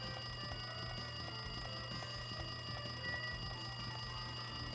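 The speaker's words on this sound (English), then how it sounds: "It's the phone ringing" Telephone ringing in the video game Danganronpa 2, a steady electronic ring with repeating tones over a constant game music drone, even and fairly loud throughout with no voices.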